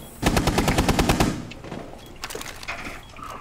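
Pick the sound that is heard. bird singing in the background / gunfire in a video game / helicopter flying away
gunfire in a video game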